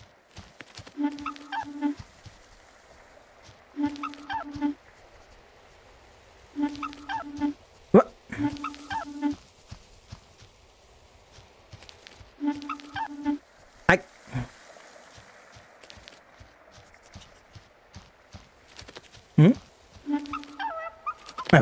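A dog in a video game whimpers and yips in short repeated bursts, spaced a few seconds apart, with occasional sharp clicks between them and no talking over it.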